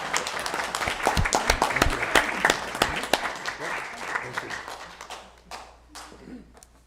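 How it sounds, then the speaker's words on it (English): An audience at a city council meeting claps, with sharp individual hand claps standing out near the start before the applause thins and fades toward the end. "Everyone give a round of applause."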